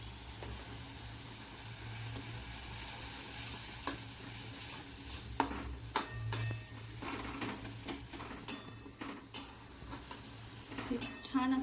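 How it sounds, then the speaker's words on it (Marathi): A tomato and cluster bean curry sizzles softly in a pan as it is sautéed in oil with spices, and a spoon gives scattered scrapes and clinks against the metal under a low, steady hum. "छान असं आपल्याला परतून घ्यायचं आहे."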